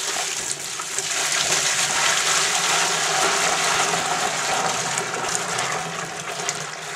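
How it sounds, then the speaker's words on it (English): Hot strike water pouring into a mash lauter tun during all-grain homebrewing of a shepherd's pie beer, a steady close rushing gush of liquid lasting throughout. "we're gonna pour that in the mash lauter tun"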